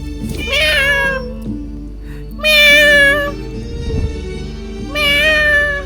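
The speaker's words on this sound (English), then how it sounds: "Wait, there it is! The cat!" A cat in Genshin Impact meows three times, loud and close, each cry a drawn-out wavering call separated by a second or two of quieter game ambience, with no speech.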